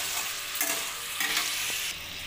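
Chopped onion and tomato with salt frying and being stirred in a wok, a steady close sizzle with scraping stir strokes throughout, no voices.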